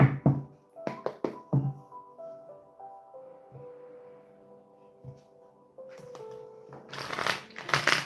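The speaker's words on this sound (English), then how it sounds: "Let's see what the tarot cards say." Tarot cards shuffled by hand during a live reading, with crisp riffling bursts at the start and end around a quieter stretch that carries a faint tonal hum.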